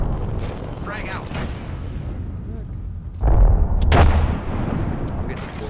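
A frag grenade goes off in a shooter video game, a loud low boom bursting over steady game noise and gunfire, with a second blast close behind.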